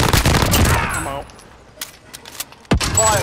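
Loud, close bursts of automatic gunfire crack out in a video game shooter match, followed by sparser single shots and a final sharp volley after a brief lull.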